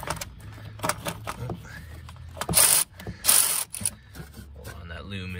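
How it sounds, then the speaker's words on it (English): A ratchet turning a socket on a wobble extension while working on a 2003-2010 Ford 6.0 diesel engine, giving short bursts of clicking with pauses between, close by, with someone talking at times. "I don't use the extension, I just use the wobble and the socket"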